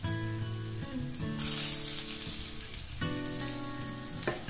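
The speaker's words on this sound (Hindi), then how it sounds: "ये पोटैटोस फ्राई करते समय थोड़ी देर बाद हम इन्हें थोड़ा थोड़ा प्रेस कर थोड़ा थोड़ा और दबा कर थोड़ा चपटा करते जाएंगे" Baby potatoes fry in hot oil with a constant close sizzle and crackle, swelling briefly louder partway through, steady and without talk.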